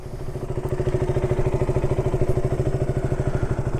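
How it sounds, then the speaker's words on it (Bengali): A KTM RC200 motorcycle engine running steadily close by, a rapid even throbbing pulse at idle with mechanical clatter and no voices. "এই হচ্ছে আমার বাইক, খুব সুন্দর মাইটি বিস্ট"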